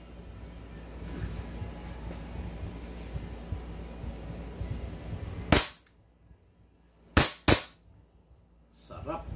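A JWC PitViper airsoft pistol firing three sharp, loud cracks, one and then a quick pair, over steady background noise and nearby talk.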